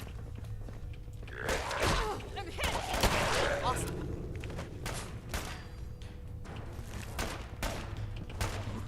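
Guns fire in Fallout 4, with sharp shots in clusters and a denser volley early on, followed by spaced single cracks and thuds over a low background hum.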